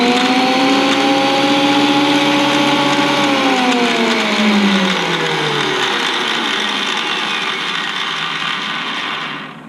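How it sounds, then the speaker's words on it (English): Wen 6550 planer motor with something loose runs loud and steady, a rattling mechanical whir whose pitch sags after a few seconds before the whine fades near the end. "One thing I noticed, that turning this on, there's something loose with this motor."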